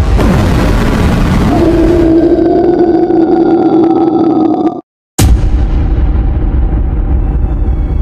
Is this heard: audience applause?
no